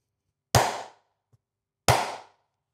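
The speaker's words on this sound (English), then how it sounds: "So let's do a clap to test." Two sharp, isolated hand claps about a second and a half apart ring out in a quiet room, each with a brief decaying tail and silence around them.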